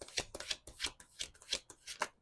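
Tarot cards being shuffled up close, a run of about eight quick riffling bursts in an uneven rhythm, with no voices.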